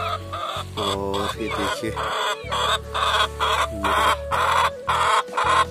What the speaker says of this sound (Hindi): मुर्गियाँ हैं छोटी छोटी, बड़ी बड़ी मुर्गियाँ भी हैं यहाँ पर,